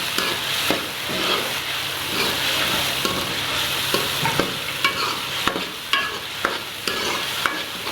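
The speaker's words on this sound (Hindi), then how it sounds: "तो अच्छी तरह से मसालों को मिक्स कर देंगे।" Whole spices, including nutmeg and dried plums, fried in a pot for potato biryani, sizzling steadily under repeated scraping and clinking stirs that grow more frequent toward the end.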